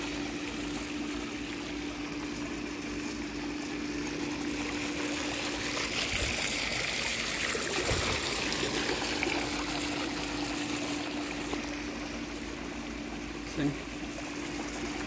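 Water jet circulating and churning in an above ground pool with adjustable pressure, a steady close rushing trickle throughout, with some talk over it.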